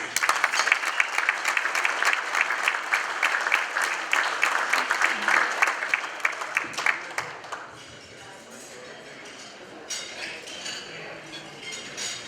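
Audience at the ECA Awards 2024 claps to welcome a speaker to the stage, dense applause with clinking glasses and cutlery that fades after about eight seconds into a quieter room with scattered clinks.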